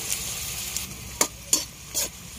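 A spatula stirs pancit with fresh miki noodles, dried fish and pepper in a pan over a soft sizzle, with a few sharp scraping strokes close by.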